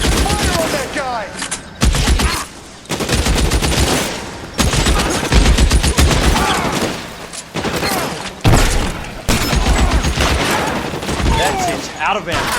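Sustained bursts of automatic gunfire and heavy booms fill an L.A. Noire video game shootout, loud and dense with brief pauses, while shouted voices break through the firing.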